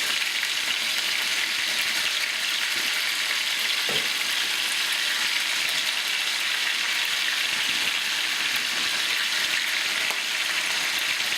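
Steady crackling sizzle of peppers and onions frying in a pan, continuous and close, with a few soft clinks of stirring.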